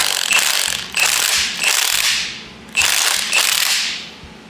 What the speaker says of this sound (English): I usually just hit it with this impact.